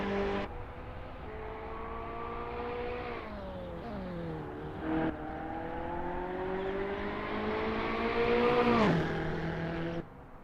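Ferrari 488 GT3 race car engine in the Assetto Corsa racing game, loud sustained revving with rising and falling pitch through gear changes, steady throughout with a sharp downshift blip near the end.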